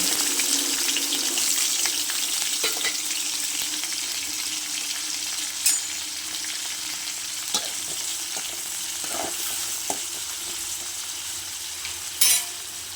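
Onions and green chilies fry in a pan with a steady close-up sizzle and hiss, broken by a few brief sharp clicks of stirring.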